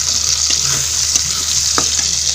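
Chopped tomato hits onions already fried deep red in a pan, raising a close, steady sizzle broken by a few sharp crackles and spoon scrapes.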